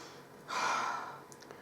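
Under a blanket over steaming boiled potatoes, a person takes one slow breath, a soft breathy rush of air lasting about a second and fading out, with no talking.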